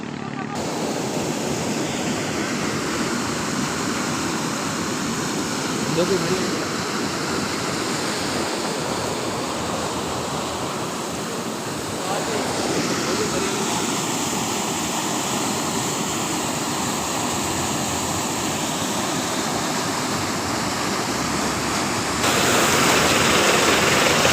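Loud, steady rush of floodwater fills the scene, a broad continuous roar with a faint engine-like drone underneath, in Nasirabad, Balochistan.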